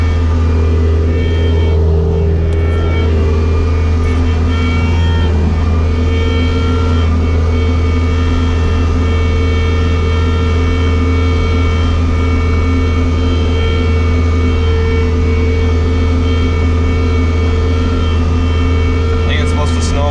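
A Bobcat loader clearing snow after a blizzard, its engine a loud, steady, close-up rumbling drone that holds without a break throughout.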